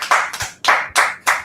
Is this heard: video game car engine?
no